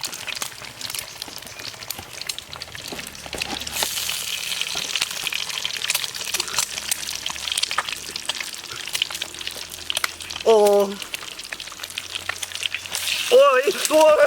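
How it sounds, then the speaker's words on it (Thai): Hot oil spattering and sizzling in a pan as eggs fry over a wilderness cooking fire, a steady crackling hiss with sharp pops throughout while someone talks excitedly over it. "น้ำมันมันพุ่งครับ น้ำมันมันพุ่ง"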